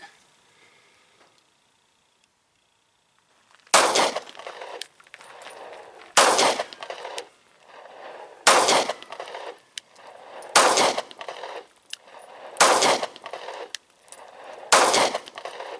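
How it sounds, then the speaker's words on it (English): A Smith & Wesson M&P Shield .45 pistol fires six rounds at a range, six sharp, loud, evenly spaced shots roughly two seconds apart, each with a short ringing tail, after a few seconds of near silence. "So let's put 6 rounds on target."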